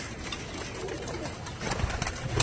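Flying tippler pigeons on a New York City rooftop loft coo softly amid a broad, noisy outdoor wash that swells toward the end.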